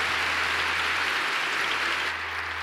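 Congregation at a Catholic prayer gathering applauding Our Lady, a dense, steady wash of many hands clapping that fills the space evenly from start to finish, with no voices audible over it.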